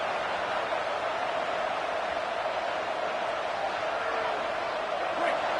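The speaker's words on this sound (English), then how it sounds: "This crowd trying to make life miserable for this offense." Steady, dense roar of a large stadium crowd at a college football game between Alabama and Clemson, a continuous wash of cheering noise with no breaks throughout.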